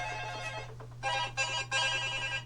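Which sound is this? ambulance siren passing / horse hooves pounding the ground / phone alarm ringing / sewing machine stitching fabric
phone alarm ringing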